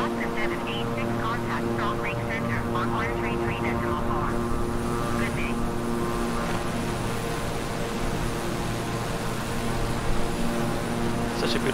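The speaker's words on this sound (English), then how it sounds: "Such a beautiful airplane. I've been flying this for most of my learning to fly tour." King Air 350i twin-engine propeller plane in Microsoft Flight Simulator, a steady loud engine and propeller drone holding throughout with someone talking over it early on.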